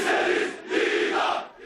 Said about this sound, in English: Crowds chant, "We want the death penalty," at the funeral of a civil servant killed in Friday's clashes